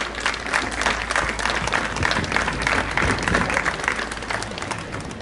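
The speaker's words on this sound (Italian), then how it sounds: "Facciamo un grosso applauso a Camilla." An audience at a local council election candidate's presentation in San Giovanni Suergiu, Italy, breaks into sustained, dense clapping that stays loud and even throughout with no voices over it.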